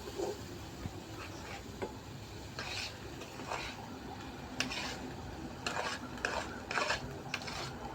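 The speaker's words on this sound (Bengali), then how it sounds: "আলুটা দিয়ে ভালো করে মিক্স করে নেব।" Hand-mashed boiled potato stirred with spices in a pan or bowl makes soft, irregular scraping and clinking utensil sounds, quiet and close, with no voices.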